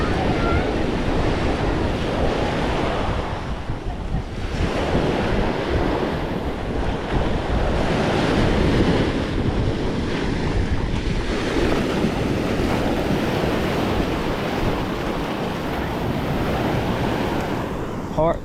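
Surf breaks and washes on a beach while strong wind buffets the microphone, a constant loud roar with rolling swells for the whole stretch. There is no clear talking.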